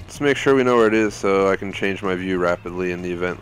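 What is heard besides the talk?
No everyday noise stands out behind the speech.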